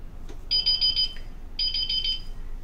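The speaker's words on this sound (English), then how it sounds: "see, alarm. It will give alarm." Hikvision AX Pro security alarm sounding after a door is opened while armed: two loud, high electronic beeping bursts, each about three-quarters of a second of rapid pulsed tones, separated by a short gap.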